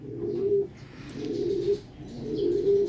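Pigeons coo in three rounded, repeating low calls spaced about a second apart, close by with faint background noise.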